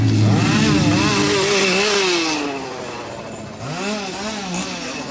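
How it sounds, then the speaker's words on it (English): A chainsaw at the Howl-O-Scream haunt at Busch Gardens roars close and loud, its pitch wavering up and down as it revs, dipping briefly before surging again. "It's a chainsaw"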